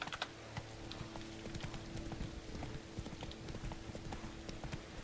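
Horse hooves clip-clop in a quick galloping rhythm in the video game Witcher 3, faint, steady and unbroken by speech.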